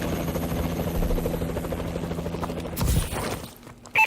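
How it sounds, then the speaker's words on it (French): Enemy reconnaissance drone in a video game flies past as a steady, loud droning rotor hum that surges briefly near the end, amid busy game ambience. "Drone de reconnaissance ennemi détecté."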